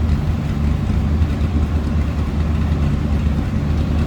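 A 1967 Ford Galaxie 500 XL convertible with a 390 V8 and stock exhaust idles steadily, a low, even rumble heard close by and alone.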